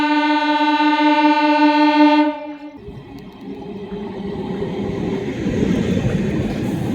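A local train bound for Sealdah sounds a long, steady horn blast for about two seconds, then the rumble and rattle of the moving carriages takes over and continues loud and close.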